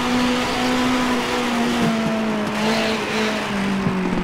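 A race car engine in an online racing video game roars loud and steady, its pitch sliding slightly as it holds high revs. The tone is sustained and buzzy, with no talking over it.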